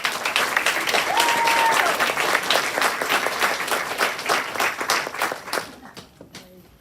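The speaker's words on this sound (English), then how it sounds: "So please give them a round of applause" An audience at a National Honor Society induction ceremony applauds the inductees with steady, dense clapping that tapers off near the end, leaving near quiet.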